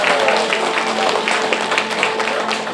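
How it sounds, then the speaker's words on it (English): Audience at a community learning festival concert in Cork applauds, a dense, steady wash of many hands clapping close and loud throughout, with a few voices mixed in. "Give it a big round of applause."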